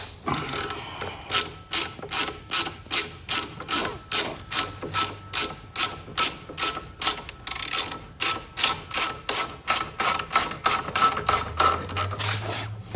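A ratchet wrench with a number 10 socket removes a bolt from a Venom motorcycle footpeg assembly. It makes a loud, close, steady run of rhythmic ratcheting clicks in repeated strokes for the whole stretch.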